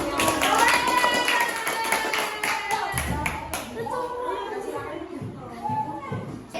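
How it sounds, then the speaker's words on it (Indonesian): Fifth-grade students in a classroom stand and clap for their group, a steady burst of hand claps mixed with children's chatter, fading as a voice speaks over the room. "Berdiri tepuk tangan untuk kelompoknya."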